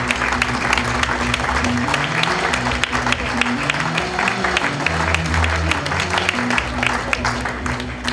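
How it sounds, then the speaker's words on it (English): Sustained audience applause for a rugby league Player of the Month award winner at a Widnes Vikings event, dense even clapping at close range, with background voices and low music underneath. "Have you just walked the longest way to milk that applause?"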